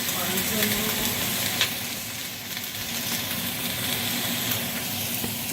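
Onions sizzling in a hot pan for a veggie breakfast, a loud, steady crackling hiss with small pops and occasional stirring scrapes close by.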